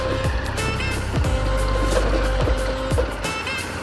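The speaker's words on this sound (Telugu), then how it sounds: "ఒక కారు కనిపించింది." On an extreme off-road route near a village waterfall, a car grinds along with a droning engine and whining gears, thudding over bumps every half second or so, close and fairly loud.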